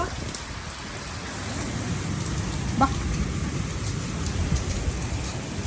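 Steady rain falls on a surface outdoors, a continuous broadband hiss with scattered drops, while a woman calls out briefly to a Shih Tzu puppy.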